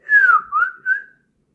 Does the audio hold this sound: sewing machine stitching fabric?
no